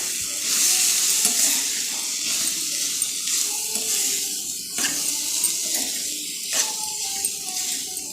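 Chopped bitter gourd cooks in oil for sambar with a loud, hissing sizzle that runs throughout, plus occasional scrapes and taps of stirring.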